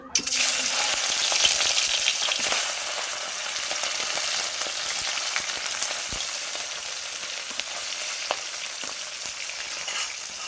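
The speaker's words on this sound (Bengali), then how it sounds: "দেখো তেলটা তেতে গেছে, মাছগুলো তুলে দেবো।" Fish frying in hot oil in a wok (kadai), a loud, steady broadband sizzle that holds for the whole stretch with a few faint clicks of spatter and no talk.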